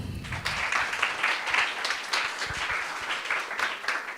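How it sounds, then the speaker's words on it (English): A hackathon audience claps for a volunteer coming up to pitch, dense crowd applause filling the room steadily for several seconds, fairly close and sustained with no talk on top. "With a round of applause."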